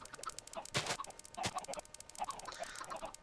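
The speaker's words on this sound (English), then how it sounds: "It's like, it's cut short by, the chicken sounds." Chickens cluck repeatedly on a block-built chicken farm in a video game, a string of short clipped clucks and squawks, some cut off abruptly, loud and close with no talking.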